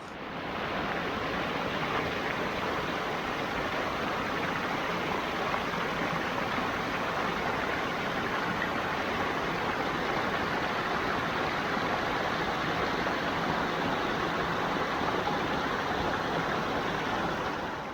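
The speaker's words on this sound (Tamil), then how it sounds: "சும்மா ஏதோ தண்ணி ஓடிக்கிட்டு இருக்கு மேலே இருக்க தண்ணி இங்கே கீழே வந்துக்கிட்டு இருக்கு" Water runs steadily down a forest stream at Puliyancholai in the Kolli Hills, a continuous even rushing hiss that stays constant throughout.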